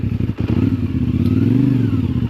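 A CF Moto motorcycle engine with minor fuel-injection issues runs nearby in a loud, steady, throbbing idle with a slight rise in pitch partway through, and no talk over it.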